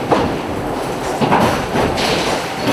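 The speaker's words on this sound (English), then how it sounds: "The flattened steel is then cut into squares called blanks inside this machine." A factory press cuts flattened steel into square blanks at a car plant, giving a steady, loud mechanical rumble broken by repeated thudding clunks, like a train rolling over rail joints.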